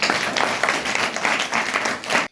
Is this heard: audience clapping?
yes